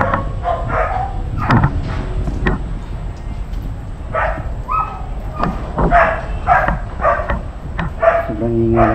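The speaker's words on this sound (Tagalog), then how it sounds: "Sobrang ingay lang ng aso." A dog barks repeatedly near an abandoned house, loud sharp yaps and whimpers in irregular bursts while people talk around it.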